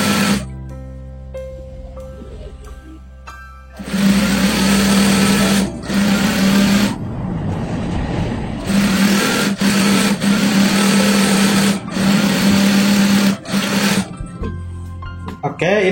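A sewing machine stitching a skirt seam runs in loud, steady whirring bursts with short pauses between them, and someone talks underneath.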